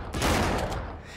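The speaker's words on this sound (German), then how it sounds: "ich schieße dreimal auf den" Brief burst of video game gunfire from Uncharted 3, a dense volley of loud shots over about a second with no talking.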